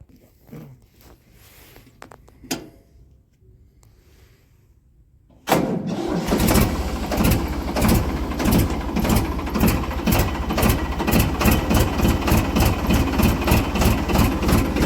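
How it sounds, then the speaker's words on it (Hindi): A Ford tractor's engine cranks and catches after a quiet stretch, then settles into a loud, steady, rhythmically pulsing idle close by, with no talking. "फोर्ड को लेके चलते हैं, एक बार आपको उसकी प्यारी आवाज़ सुनवाता हूँ, फिर चलते हैं।"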